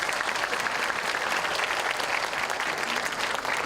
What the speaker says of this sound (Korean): 다시 한번 박사님들께 큰 박수 한번 부탁드립니다